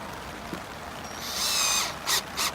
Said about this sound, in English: we're just going to go ahead and drill these in